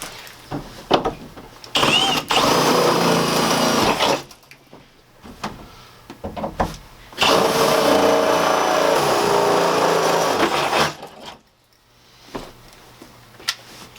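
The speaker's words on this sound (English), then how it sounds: "So we'll go ahead and punch our holes" A power tool punches holes through a metal interior wall and ceiling frame in an A-frame, with two long, loud bursts of whirring separated by quieter pauses and short clicks.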